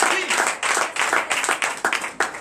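A church congregation claps and cheers in acclamation during a Sunday service, a loud, fairly dense burst of applause with rhythmic accents lasting a couple of seconds, voices mixed in.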